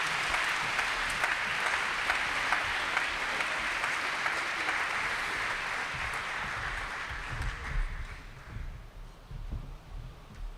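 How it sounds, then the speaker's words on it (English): Applause at a college Class of 2025 graduation ceremony, a broad, steady ovation from a large audience that continues for several seconds, then gradually tapers off and gives way to low rumbling hall noise. "Let's have another round of applause."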